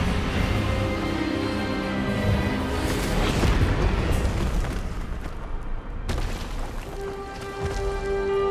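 A game spell in Hogwarts Legacy: an Expelliarmus disarming cast bursts out as a loud, booming blast with rumbling low-end impacts, swelling and crackling across several seconds against dense magical effects and music.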